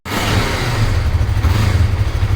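A Yamaha R3 motorcycle engine revs hard under throttle, a loud, close, steady rumble lasting a couple of seconds with no voices.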